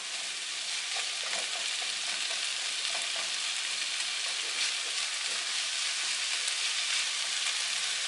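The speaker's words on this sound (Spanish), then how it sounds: "poquito más de aceite conforme se vayan friendo porque si no se les van a cocer o quemar en lugar de freírse las verduras" Zucchini and mixed vegetables fry in oil in a pan, giving a dense, continuous sizzle that holds steady and close throughout, with faint crackles and no voices.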